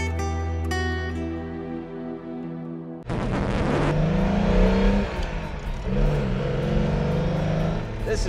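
A 1962 sports car, a 240-horsepower 2+2, heard driving: a steady, loud engine drone that jumps abruptly in level partway through and continues with shifting pitch as it accelerates.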